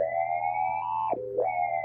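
A synthesized creature growl made with an analog-style generator, modulated filter cutoff and distortion: a buzzy, tonal drone that holds steady, then dips sharply in pitch and swoops back up, alone and fairly quiet.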